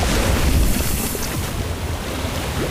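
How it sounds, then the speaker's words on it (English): Orb of water spell in the Harry Potter: Magic Awakened video game, a steady rushing, surging wash of water like surf and wind, loud and continuous throughout with no voices. "Orb of water."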